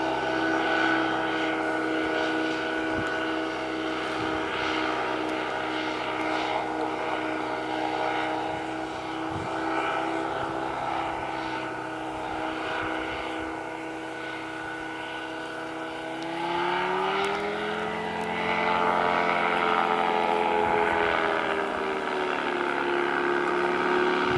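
A small ultralight trike aircraft engine, a Rotax, drones steadily nearby as it approaches to land, its pitch bending and swelling as it passes and comes around, with no talking.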